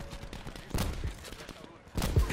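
Sniper rifle shots in Black Ops 4, a couple of heavy booming reports with gaps between them, close and loud, with quieter game noise in the background.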